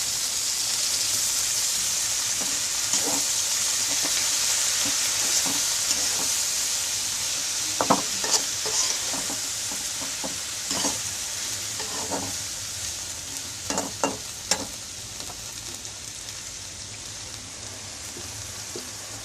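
Continuous hiss of potatoes frying in a pan, broken by scattered scraping and clinking as they are stirred, louder bursts midway.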